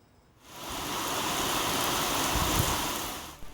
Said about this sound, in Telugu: తెలంగాణ రాష్ట్రమంతా కొద్ది రోజులుగా వర్షాలు దంచి కొడుతున్నాయి